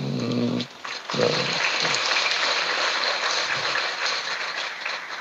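An audience at a religious gathering applauds with a sustained dense wash of clapping, beginning after a brief voice and continuing steadily for several seconds.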